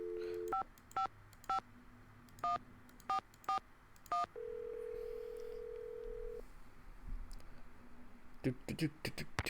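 Telephone keypad tones in a Nancy Drew video game: a run of about eight separate DTMF beeps at an uneven pace, then a long steady tone, followed by clicking and rings near the end.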